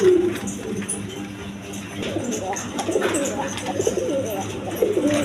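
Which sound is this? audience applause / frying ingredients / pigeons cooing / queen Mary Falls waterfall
pigeons cooing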